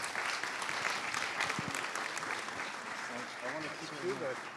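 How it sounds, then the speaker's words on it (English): Sustained clapping from a crowd fills the whole stretch, steady and fairly loud, with a voice briefly rising near the end. "A big round of applause and a huge thanks"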